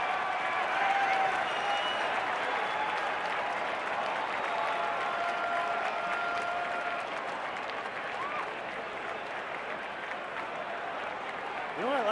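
Baseball crowd at a Cubs home game cheering and applauding steadily for Milton Bradley's home debut, a dense, sustained roar of claps and cheers filling the whole stretch, with a commentator's voice talking over it.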